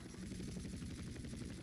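A helicopter flies in GTA San Andreas, its rotor beating in a fast, regular chop over a low engine hum, faint and steady throughout.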